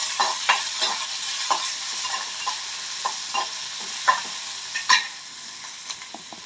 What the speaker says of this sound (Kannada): ಜೀರಿಗೆ ಹಾಕೊಂಡು ಈರುಳ್ಳಿ, ಬೆಳ್ಳುಳ್ಳಿ ಸ್ವಲ್ಪ ಚೆನ್ನಾಗಿ ಫ್ರೈ ಮಾಡ್ಕೊಂಡು